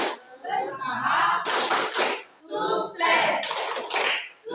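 A group stands and does the Indonesian 'tepuk sukses' success clap at a community gathering: loud, rhythmic bursts of many hands clapping together, mixed with a group chanting in unison between the claps.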